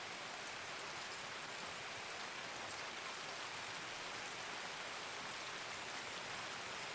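Steady, dense rainfall in the video game Escape from Tarkov hisses evenly throughout, a constant wash of drops with no voices or other sounds.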